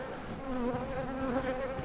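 Honeybees buzzing at a hive in late March after winter, a steady close, continuous drone with wavering pitch that never breaks.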